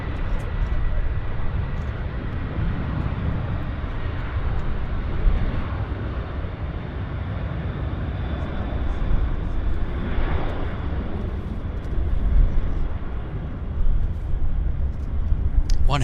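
Heavy jets at Vancouver Airport roar steadily for the whole stretch, a loud, sustained engine rumble with swells as aircraft pass, while voices talk over it.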